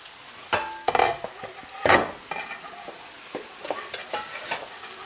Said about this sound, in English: now I think it's the time to add the oil, garlic, salt and pepper